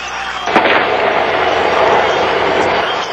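A single gunshot fired from a building during a massacre cracks out loudly over a dense, continuous roar of noise, followed by sustained sharp, crackling reverberation.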